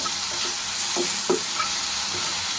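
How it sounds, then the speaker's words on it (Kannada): Tomato masala with coriander leaves and salt frying in a pan for paneer masala, a constant close sizzle with a few soft spatula scrapes and taps mixed in. "ನೋಡಿ ಫ್ರೈ ಆಗ್ತಾ ಇದೆ"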